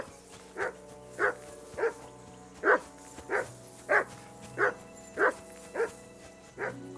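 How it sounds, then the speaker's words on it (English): A dog in the video game Kingdom Come Deliverance barks repeatedly, about eleven evenly spaced barks at a moderate distance over a low background hum. "I assume you can hear that damn dog of yours barking."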